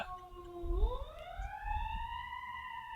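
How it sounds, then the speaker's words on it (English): A siren-like electronic tone goes off during a podcast conversation, starting on a low steady pitch then sweeping upward and holding a higher wail, moderately loud and clear with no talk over it. "each time I say Brazil, the siren goes off"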